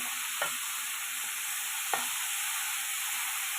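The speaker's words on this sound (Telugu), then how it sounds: "బాగా తిప్పుకోండి" Mixed vegetable pachadi being stirred in a pan on the stove, a constant soft sizzle with two distinct scraping strokes of the spoon, close and without talk.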